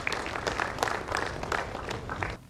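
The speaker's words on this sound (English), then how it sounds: "Everybody, put your hands together for a round of applause." An audience applauds a keynote speaker at an evening address, a dense, steady wash of clapping that carries for over two seconds before tapering off at the end.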